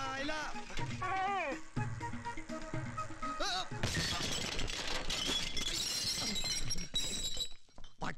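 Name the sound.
jar breaking, shattering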